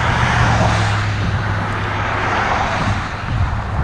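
Road traffic rushes by near a highway on the Keweenaw Peninsula, a loud, steady roar close by that never drops away.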